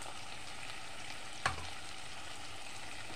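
Chili powder and onion-garlic paste fry in oil with a soft, steady sizzle, and one sharp clink of a spoon sounds halfway through.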